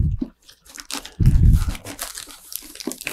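Estes Mean Machine model rocket kit packaging being torn open, with loud crinkling and tearing bursts of plastic and cardboard up close, including one heavy crunching rip in the middle.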